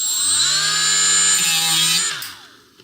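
A rotary tool running at 10,000 RPM grinds a broken plastic tab on an E30 instrument cluster, a loud steady high-pitched whine that holds for about two seconds and then winds down and fades.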